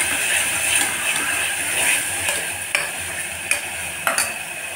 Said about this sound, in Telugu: ఉల్లిపాయలు, టమాటా, పచ్చిమిర్చి అన్నీ ఒక 5 నిమిషాలు వేగాలి.